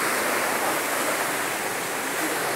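A waterfall roars as a steady, loud wash of rushing water beside a motorbike trail, constant and full with no voices.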